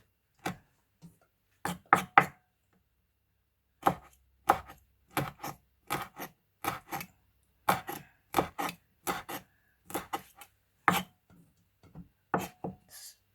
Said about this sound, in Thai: มาล้างให้สะอาดแล้วก็ยายก็จะมาหั่น ให้มันเล็กลงหน่อยหนึ่ง